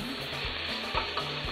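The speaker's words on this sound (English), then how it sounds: "So while this is frying up," Eggplants frying in a pan, a steady close sizzle with faint stirring clicks, no talking.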